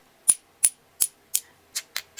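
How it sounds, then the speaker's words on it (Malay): Glass pieces clink against glass: seven sharp, bright ticks, evenly spaced at first then quickening, close and clear against near silence. "bila kaca bertemu kaca."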